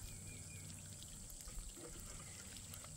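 Water trickling and pouring steadily at a low level, a soft continuous splash with faint outdoor background noise and no talking.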